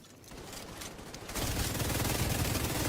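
Sustained automatic gunfire in the video game The Division 2, a dense rapid rattle of shots that grows louder partway through and continues without pause to the end, with no talking.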